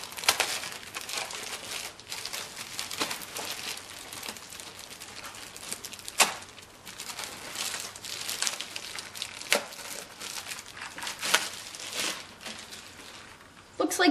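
Packaging of an ROG GL12 gaming PC is opened during an unboxing, with close, continuous crinkling and rustling of plastic and cardboard, plus a few sharper crackles and tearing bursts.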